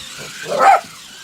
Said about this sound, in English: my dogs do not like this thing